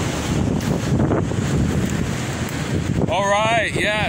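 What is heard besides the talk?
strong wind buffeting a tent during a thunderstorm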